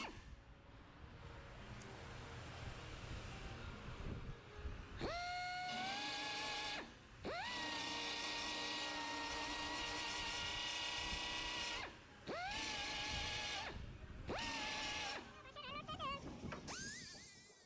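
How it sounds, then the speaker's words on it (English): A belt sander grinds down spot welds on a Jeep Renegade door skin, in several loud bursts, each starting with a rising motor whine and then holding a steady, harsh grind, with short pauses between passes. "I just picked up my belt sander and grinded those down"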